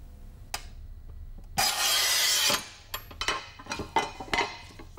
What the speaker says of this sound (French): Découper à la carlette.